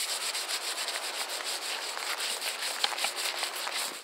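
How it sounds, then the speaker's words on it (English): Hands rub seeds loose from a large dried sunflower head in an allotment garden, a close, continuous dry rustling and scratching with faint crackles throughout. "you rub those bits and you can see all the seeds"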